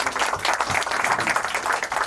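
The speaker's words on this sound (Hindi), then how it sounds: "एक बार गुरु के लिए जोरदार ताली" An audience at an album launch event claps in a brief, dense burst of applause for a guru, steady and moderately close.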